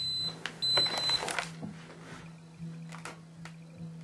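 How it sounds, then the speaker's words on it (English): An electric clothes iron gives a short electronic beep tone near the start, then quieter clicks and faint household noise follow with no talking. "The iron's beeping."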